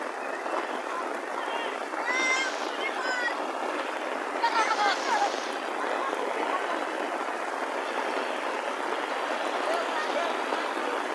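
A swollen river rushes in heavy rain near a village, a constant loud roar of flowing water with someone talking over it and brief splashy bursts.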